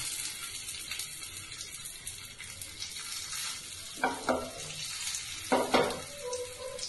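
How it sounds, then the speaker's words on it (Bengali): Pea kebabs frying in hot mustard oil in a kadhai, with a steady sizzle and hiss throughout, plus a few louder bursts as pieces are added or turned. "কড়াইতে তেল দিয়ে দিয়েছি, এবার তেলটাও গরম হয়ে গেছে। এবার এক এক করে এই কাবাবগুলো এই তেলের মধ্যে ছেড়ে দেব।"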